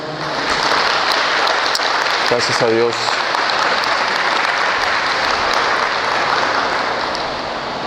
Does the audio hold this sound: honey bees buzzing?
no